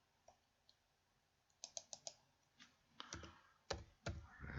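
Computer keyboard keys clack in short bursts, a few isolated taps and then quicker runs of typing, close and fairly quiet with no voices.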